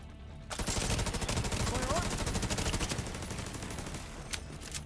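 A Tommy gun rattles in The Division, one long sustained burst of rapid automatic fire that runs loud and steady for several seconds before trailing off.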